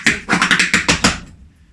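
A quick series of sharp, close taps in an uneven rhythm, about eight strikes, then a brief scrape before it goes quiet.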